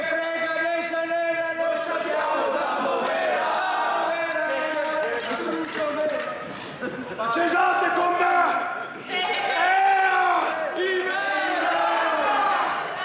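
Wrestler Merak lets out his signature call to the arena crowd, a loud sustained shouting cry that rises over a roaring, cheering audience, with several swelling bursts across the stretch.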